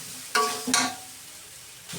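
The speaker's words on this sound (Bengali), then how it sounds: "সামান্য পরিমাণে একটু জল দিয়ে মশলাটাকে ভালোভাবে আমি কষিয়ে নেব" Spice paste loosened with a little water is sautéed in a pan, giving two quick scraping stirs over a faint, steady sizzle, with no talking.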